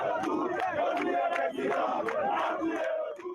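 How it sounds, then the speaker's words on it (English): Angry crowd shouting and yelling outside a police station in Haiti where suspects in the assassination of President Jovenel Moise are held; a dense, continuous roar of many voices with sharper individual cries rising above it. "an angry crowd gathered, demanding the suspects be turned over to them"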